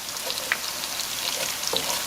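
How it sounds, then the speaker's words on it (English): Freshly chopped garlic sizzling in hot oil for spaghetti, a steady close crackle and hiss with small pops throughout, no voices. "I'm gonna go ahead and add my garlic"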